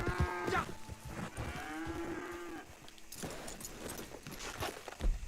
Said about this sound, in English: you can shoot these animals, these cows, and you can get beef from them